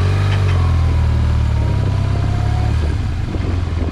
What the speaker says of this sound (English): we're going to jump start our bike by just releasing the clutch